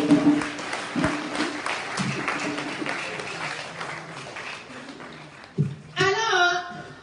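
Applause from a church congregation during a worship service in Paris, a loud, steady clapping wash that fades slightly, with a voice speaking and crying out over it near the end.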